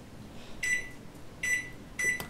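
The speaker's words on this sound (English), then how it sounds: "it's in the microwave" A soft steady hum with three bright tonal beeps rising above it, a kitchen appliance being set and started, no voices.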